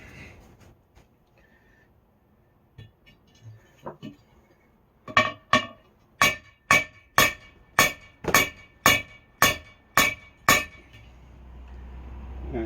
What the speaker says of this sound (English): I need to hammer downward.